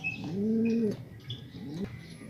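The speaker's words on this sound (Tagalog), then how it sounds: "ito yung ibon na yung inakay" A young pigeon squab coos close by, two soft, gurgling coos in a row with faint chirps and background noise around them.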